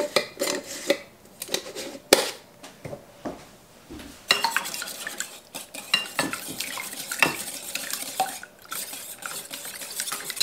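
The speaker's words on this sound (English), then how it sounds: "and we will get that whisked up." Eggs seasoned with salt and pepper are whisked briskly in a bowl, giving a steady run of close, rapid clinks and scrapes against the bowl with a few sharper knocks and no talking.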